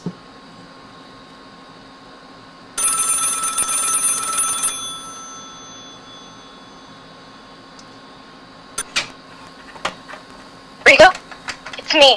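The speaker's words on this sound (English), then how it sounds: "a chilling tale of a foreboding phone call" A telephone rings in a burst of about two seconds, bright and fairly loud over a quiet hum, followed by a few sharp clicks and knocks near the end.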